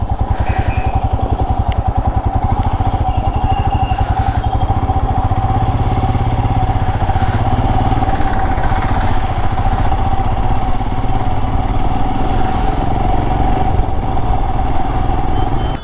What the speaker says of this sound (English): I'll park my bike over there.